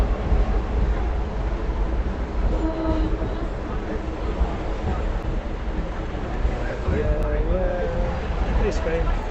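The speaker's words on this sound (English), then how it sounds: "The green tram." Green tram passing along a Barcelona street at lunchtime, a loud continuous rolling rumble with squealing tonal wheel noises amid city traffic, while a person talks over it.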